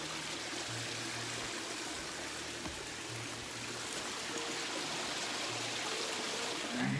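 A waterfall pours beside a flowing stream near a stone bridge and cliff, making a steady, broad rushing hiss that continues without a break throughout.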